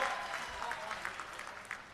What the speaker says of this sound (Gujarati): એમની માટે એકવાર જોરદાર તાળીઓથી એમનું સ્વાગત કરીએ